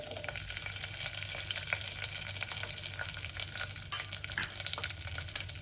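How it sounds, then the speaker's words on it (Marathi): Dry fruits fry in ghee in a pan as a dense, continuous crackling sizzle, close and steady, with bright popping specks throughout and no voices. "आता हे 2 मिनिटं आपण छान फ्राय करून घेऊ"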